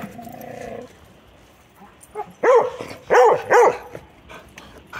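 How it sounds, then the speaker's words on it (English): A dog whimpers softly, then barks several loud, sharp times close by, with a pause between the bursts. "Why are they barking?"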